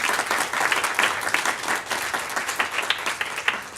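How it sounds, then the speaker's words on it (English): Audience applause for Serena at an EdTech meetup, a steady dense round of clapping that fills the room for several seconds without speech. "round of applause for Serena"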